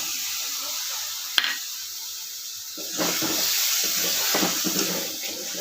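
Ground chili paste thinned with water is tipped into a frying pan for a Bengali pangas fish curry, giving a sharp clink and then a soft, watery sizzle and stirring scrape that rises midway and stays fairly quiet.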